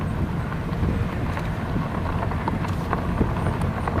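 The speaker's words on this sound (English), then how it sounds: "Still breezy." A breeze blows outdoors on a mild 68-degree day at a shorebird spot, heard as a steady broadband rush of wind buffeting the microphone with a few faint knocks scattered through it.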